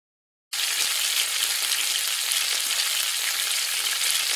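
Spam slices frying in a pan on an induction cooker set to low heat, a steady close sizzle that begins abruptly and holds constant, broad and hissy, with no talking.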